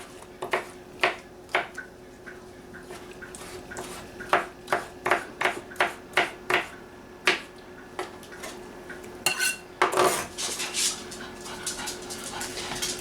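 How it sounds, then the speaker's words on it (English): A knife chops red peppers on a cutting board, a series of sharp, close, fairly even taps, speeding into a quick flurry near the end. "Some things you may notice when I'm chopping is that I don't hold the knife back here."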